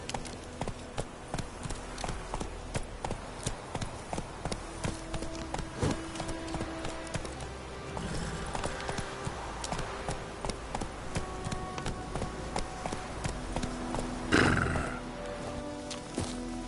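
Roach, a horse in The Witcher 3, gallops with rhythmic clip-clop hoofbeats under game ambience, a whinny rising near the end.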